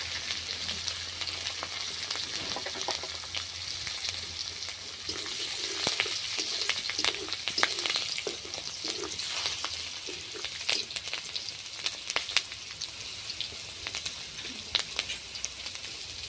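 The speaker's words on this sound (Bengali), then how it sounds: "আমার তেল গরম হয়ে গেছে। আমি দিয়ে দেবো সাদা জিরে, দিয়ে দেবো আদা কুচি, শুকনো লঙ্কার গুঁড়ো" Cumin seeds, chopped ginger and chilli powder sizzle in hot oil with a steady, bright frying hiss and scattered crackles and pops, and no one speaks over it.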